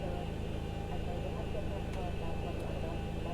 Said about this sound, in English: We're going to hear the beautiful F-mod sounds, of course, that come with this airplane.